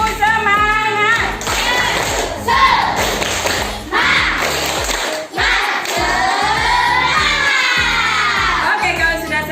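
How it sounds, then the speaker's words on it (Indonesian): A primary school class does a rhythmic spirit clap, the pupils clapping in patterned bursts while chanting and shouting together loudly at close range. "Tepuk semangat dulu ya"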